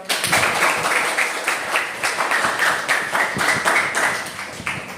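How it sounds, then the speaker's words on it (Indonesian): A classroom full of people clapping steadily for several seconds, dense overlapping claps with a few louder hands standing out, fairly close. "Buat Aisyah, tepuk tangan buat"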